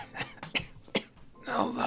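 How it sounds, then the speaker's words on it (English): A man gives a few short, dry coughs close to the microphone in an intimate whispered roleplay setting, followed by soft breathy noise. "I've dealt with this cough for all my life, though not many know about it."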